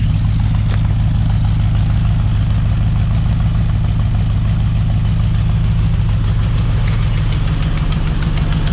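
A Mopar 400 big block V8 with a 4-speed, intended for a 1964 Dodge Polara 500, idles with a steady deep rumble and a slight header leak, loud and close, unbroken throughout with no voices.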